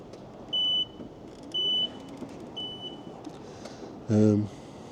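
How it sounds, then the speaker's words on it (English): Two clear electronic beeps from a reversing vehicle, then a fainter third, followed by a short loud tone, over soft background noise. "mine has a nice beeping sound when I reverse"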